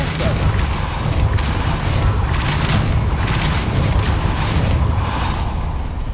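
Depulso spell blast in Hogwarts Legacy, a loud, dense booming rush of force with creaking and rattling texture that holds steady throughout.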